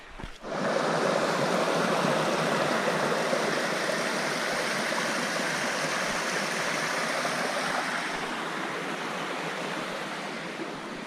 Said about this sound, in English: Man, this is a nice stream.